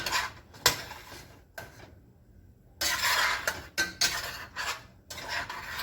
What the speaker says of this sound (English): we're just going to kind of stir this up and let it thicken up